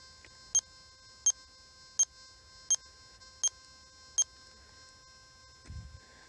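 A Nokta Makro Gold Kruzer metal detector gives six short, high-pitched beeps at an even pace, fairly quiet, followed by a brief low rustle near the end.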